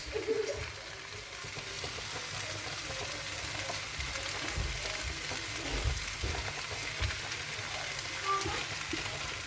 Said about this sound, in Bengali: সস দিয়ে দিলাম, এখন আমি ভালো করে মিশিয়ে নেব